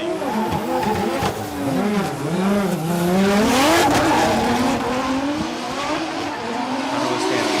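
Two drift cars, a JZX100 Chaser and a Z, race in tandem on a snowy course, engines loud and close with rising and falling revs, squealing tyres and skidding throughout.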